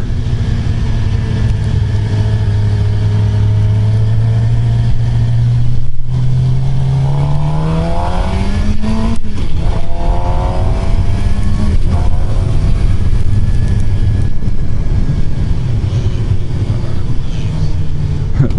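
A 2015 Suzuki GSX-R750 sport motorcycle engine idles loudly, then revs up in rising sweeps a few times before settling back to a steady, throaty rumble.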